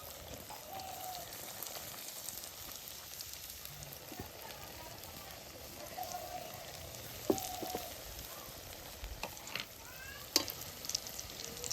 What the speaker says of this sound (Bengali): বন্ধুরা তেলটা গরম এসে গা, আমি একটা চপ দিয়ে দেবো।